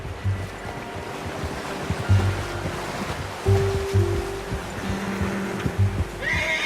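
A horse whinnies in a Red Dead Redemption game scene over a steady bed of wind and surf-like ambience, with a few low snorts and shifting hoof-like thuds.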